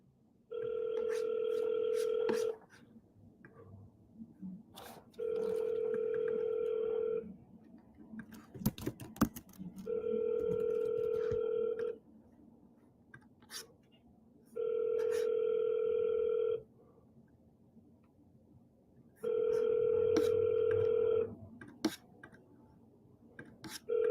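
A telephone rings five times, each a steady electronic ring about two seconds long, spaced evenly with quiet gaps and faint background rustling and murmur between rings.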